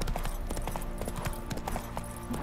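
Horse hooves clip-clop at a steady riding pace in The Witcher 3: Wild Hunt, a close, continuous trotting rhythm of even hoof strikes.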